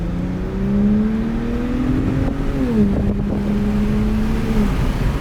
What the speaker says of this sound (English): It sounds cool. It almost sounds like a turbo.